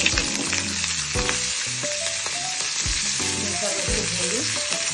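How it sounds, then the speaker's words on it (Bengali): Nigella seeds crackle and sizzle loudly in hot oil, a dense continuous frying hiss with irregular pops and stirring scrapes throughout, close up and with no talking. "আর আমি একটা তেলটার মধ্যে কালো জিরে ফোড়ন দেবো, কালো জিরে ফোড়ন দিয়ে দিলাম"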